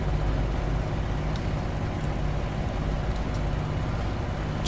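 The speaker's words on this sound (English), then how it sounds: "I'm gonna try high-speed taxiing procedure" A P-40E fighter's engine runs steadily during a high-speed taxi in the IL-2 flight sim, a constant loud drone with a low hum holding level throughout and faint rattles near the end.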